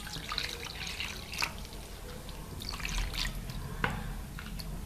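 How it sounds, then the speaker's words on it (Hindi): Water pours into a bowl of raw minced meat mixed with vinegar, making a steady trickling and splashing with a few sharper drips, close by, and no voices. "हम इसमें पानी ऐड कर देंगे।"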